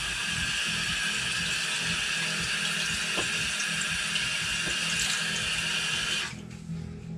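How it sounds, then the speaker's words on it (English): Tap water pouring steadily from a faucet into a sink, rinsing over a face wearing waterproof mermaid makeup: a loud, continuous rushing hiss up close that cuts off abruptly near the end, leaving quiet room tone. "So just running water over it."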